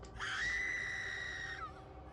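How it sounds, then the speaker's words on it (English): A single human scream rises sharply and holds for over a second at high pitch, loud and close, before trailing off. "God damn that scream."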